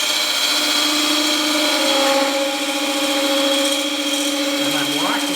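A form scraper cutting a decorative detail in a bowl on a wood lathe gives a steady, close scraping whine with a constant motor hum underneath.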